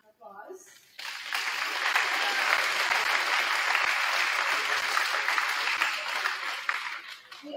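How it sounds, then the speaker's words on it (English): A large audience at a high school fall sports award night applauds all-conference athletes, with loud, sustained clapping that swells in after a brief pause and stays steady for several seconds. "Give them a round of applause."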